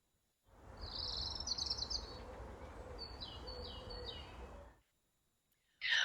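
Bird song in Merlin Woods, Galway, Ireland: high, quick chirping phrases repeat over a steady hiss of woodland background, then break off into near silence before a brief final burst of song.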